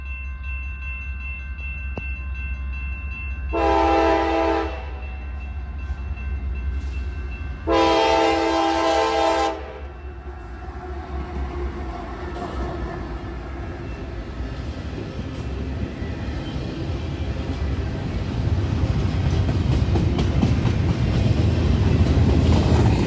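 A CSX freight train, I-131, sounds two long, loud horn blasts, then rolls through town with a growing rumble and wheel noise that builds toward the end, with no voices.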